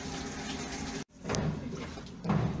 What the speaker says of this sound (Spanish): Y ahí va a empezar a cargar agua y ahorita va a empezar a lavar.